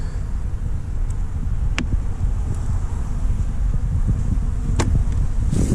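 Honey bees buzzing as they leave a swarm collection box outdoors, a faint low hum under steady wind noise, with a few brief individual bees flying close past.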